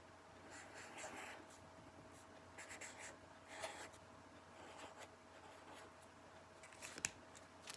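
Pencil or pen writing out a time-telling answer by hand in a classroom lesson, giving soft, intermittent scratchy strokes close by over a faint background hum.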